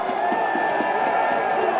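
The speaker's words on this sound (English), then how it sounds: "Look at this crowd." A large crowd of St. Louis Blues fans celebrating a Stanley Cup win, a dense steady roar of voices and cheering with faint rhythmic chanting, and no single voice standing out.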